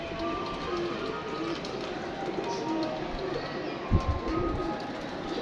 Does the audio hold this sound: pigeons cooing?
yes